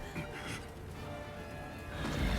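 A horse whinnies in the video game Nioh 3, a moderately loud neigh over dense game ambience with low rumbling that swells toward the end.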